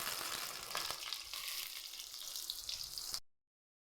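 Fennel seeds sizzling and crackling in hot oil while cooking a meal maker gravy, a close, steady frying hiss that cuts off abruptly at the end.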